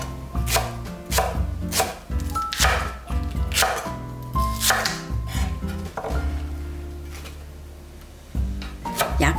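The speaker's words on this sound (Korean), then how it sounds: "부추는 7cm 길이로 썰어주세요. 대파 흰 부분은 어슷썰기 해주세요." A knife chopping Korean chives into 7 cm lengths and slicing green onion whites on the diagonal on a cutting board, a close run of sharp, rhythmic knocks in quick bursts with short pauses between, no talking.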